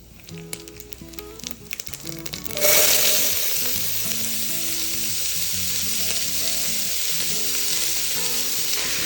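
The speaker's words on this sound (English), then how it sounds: "we're ready to put in our whole spices and start frying" A few clinks and soft clatter, then a sudden loud sizzle as whole spices hit hot oil, crackling steadily and close until the end.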